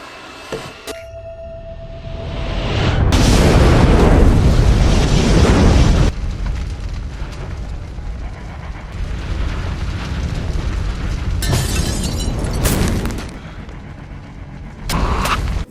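A loud, sustained roaring blast that swells for a few seconds, then settles into a continuous rumble with a few sharp bursts.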